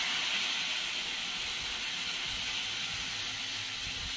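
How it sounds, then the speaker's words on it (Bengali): Strong wind blows steadily across an outdoor wood-fired stove, a constant loud rushing hiss that fills the whole stretch with no voices. "প্রচণ্ড হাওয়া দিচ্ছে, সব উড়ে চলে যাচ্ছে।"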